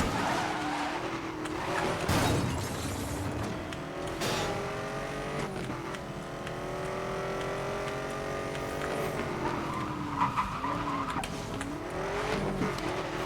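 A Corvette in the racing game Need for Speed: Most Wanted (2012) skids with long squealing tire tones over a revving engine, rising and falling pitch, no talk heard.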